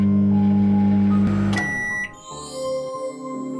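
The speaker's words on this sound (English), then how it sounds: "He melted it in the microwave." A microwave oven hums steadily, then a sharp beep sounds as it stops, followed by quieter clicks and shuffling.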